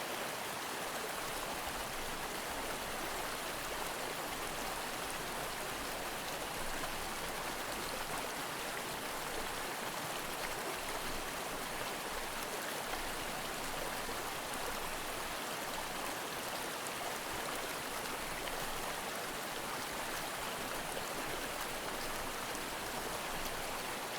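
Steady, broadband rushing water fills the whole stretch like a waterfall or stream, constant and fairly loud with no pauses and no voices over it.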